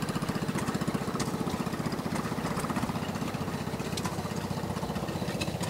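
A Beaver tractor engine runs steadily at a fast idle on a farm, its regular thudding pulse continuous and fairly close, with no one talking over it.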